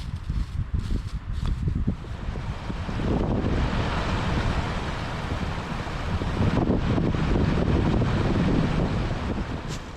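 Strong wind gusts across an outdoor trail in the wildlands, a loud continuous rushing roar that buffets the microphone, building and swelling throughout.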